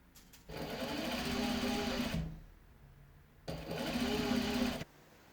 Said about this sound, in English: I just sew it around the edges to hold it in place for the rest of construction